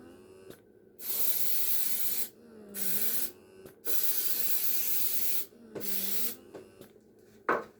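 Several bursts of cooking spray hiss onto a baking pan, each lasting about a second, with short pauses between, close up and fairly quiet.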